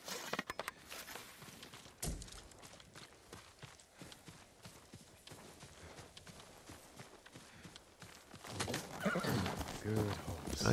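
A horse in the Ghost of Tsushima video game whinnies and its hooves clop, with game sounds and rising bustle toward the end.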